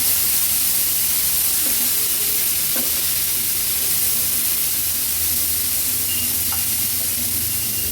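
Boiled chickpeas stir-fried in oil over a high flame, giving a dense, even, close hissing sizzle with a few faint scrapes of stirring, no voices.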